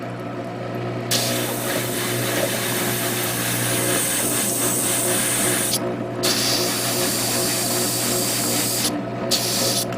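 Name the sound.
spray painting a coat on a Gundam model diorama part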